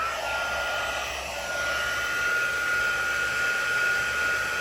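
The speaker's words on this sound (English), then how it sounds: "I might actually hit that with my heat tool" A crafting heat tool blowing hot air onto curled card stock to flatten it, a close, continuous whirring hiss like a hair dryer that holds steady throughout without speech.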